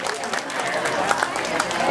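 An audience at a community association gala in British Columbia breaks into applause, a steady wash of many hands clapping at moderate loudness, with a few sharper claps standing out.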